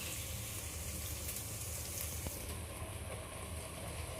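Masala paste sizzling in a pan of fish curry after turmeric is added, a dense, steady frying hiss throughout at moderate level with no talk.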